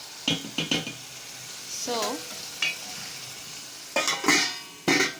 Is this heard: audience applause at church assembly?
no